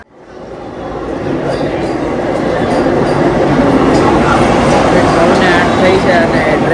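Vande Bharat Express train pulling into platform number 1 at a station, a steady rising rumble of the approaching coaches building over several seconds and holding loud, with station ambience behind it.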